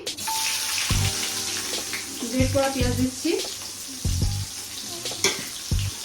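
Grated onion hitting hot oil with dried red chillies, bay leaf, cinnamon, cardamom and cumin for a rohu fish curry, a close sizzle with intermittent stirring clatter and a voice talking over it.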